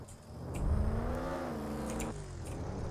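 Engine of a car driven in the Roblox game Jailbreak, a steady whirring drone that rises and shifts pitch as it accelerates, heard fairly close with no talking.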